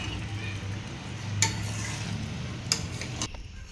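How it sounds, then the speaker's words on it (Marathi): Spicy chicken masala is stirred in a pan to coat the pieces, a steady sizzle under scraping spoon strokes with two sharp metallic clinks, ending with a sudden drop in the sound. "मसाला सगळा आपल्या चिकनला कोट करून घ्यायचा आहे"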